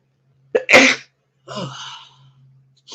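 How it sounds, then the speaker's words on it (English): A single sharp sneeze bursts out close by, followed by a softer breathy exhale and a brief sniff in an otherwise quiet room. "About to sneeze."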